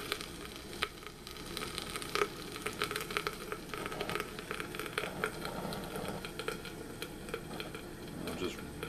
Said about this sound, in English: You can hear that stuff just boiling there.